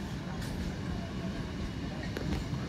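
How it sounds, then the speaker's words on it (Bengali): A down local train with advertisement-covered compartments rolls toward Hooghly railway station, giving a steady, close, low rumble with faint rattling. "Down local train Hooghly railway station অভিমুখে যাচ্ছে।"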